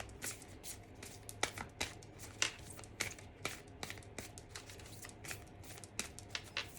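Oracle cards are shuffled by hand in a quiet room, giving a quick series of crisp riffling and flicking bursts at an irregular rhythm, close and fairly soft, with no talking.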